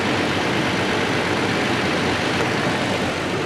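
Toyota Tacoma engine idling after a spark plug replacement, a steady, even broadband rumble heard close up with no talking.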